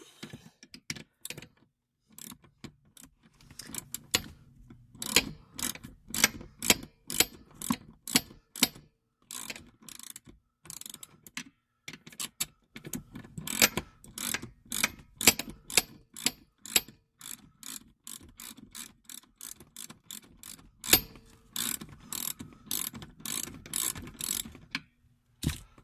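E46 BMW seat bolts are tightened into an E36 with a ratchet, giving long runs of rapid, crisp clicking in uneven bursts with short pauses, close and fairly quiet.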